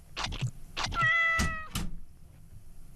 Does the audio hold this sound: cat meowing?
yes